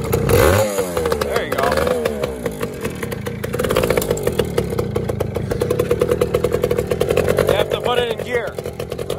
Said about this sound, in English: you're gonna have to give it a little bit of throttle when you start.